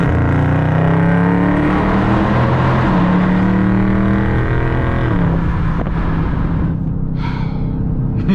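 A 2020 Dodge Charger Scat Pack V8 revs loud and close, its deep exhaust roar climbing and falling through several sustained pulls, steady and unbroken for the whole stretch with no talking.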